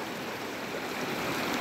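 Cold water flows steadily in a small stream called Tapa Khola, a soft continuous rushing wash with no voices.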